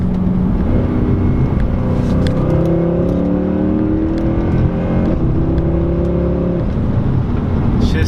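A 2014 Mercedes C63 AMG engine revs hard, pitch climbing and dropping through several gear changes and downshifts with throttle blips, loud and close throughout.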